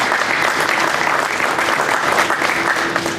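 Audience at a moment-of-silence event in Rochester, NY applauding speakers: dense, steady clapping from a crowd, loud and close throughout.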